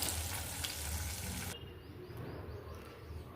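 Cooked toor dal tipped into a hot tempering pan, giving a loud hissing sizzle that drops suddenly to a softer, steady crackle, with no talking.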